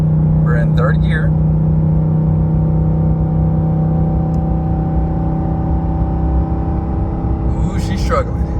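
Ford F-150 with the 5.0L Coyote V8 labouring in third gear while towing at maximum load up a 6% grade, a steady loud low drone and whir throughout, with brief voices near the start and end.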